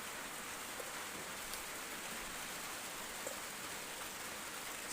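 Steady rain falls at a farm camp in an orchard, an even, continuous patter on the surfaces all around, with no voices.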